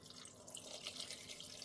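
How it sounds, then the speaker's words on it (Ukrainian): Soft, steady splashing of water being poured into a pot of vegetables, a faint hissing trickle that continues evenly throughout. "додаємо зовсім небагато води"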